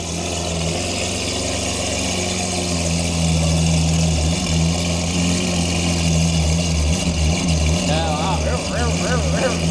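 Car engine fitted with a homemade Aventador-style exhaust, idling with a deep, loud burble and then revving in quick rising and falling bursts near the end, with voices talking over it.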